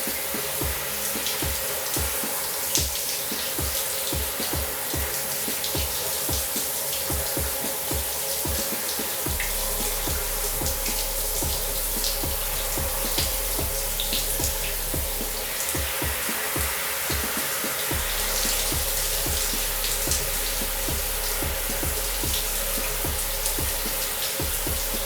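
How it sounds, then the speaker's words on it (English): Water from a cold shower runs in a continuous, broad rush and patter that stays steady for a long stretch, close and fairly loud, with no voices heard. "just turn off the water and get out of the shower"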